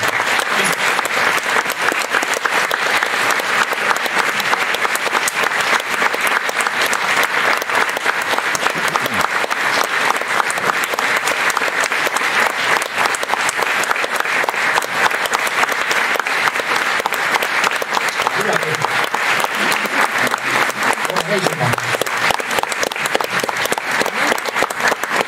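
Sustained, loud audience applause fills the whole stretch as Silvia Ilves comes on stage, a dense steady roar of clapping with faint crowd noise underneath and no break.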